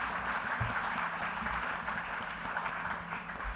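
Audience applause at the Tata Crucible Corporate Quiz national final, a steady wash of many hands clapping from a large crowd, continuous and fairly loud throughout with no clear talk over it.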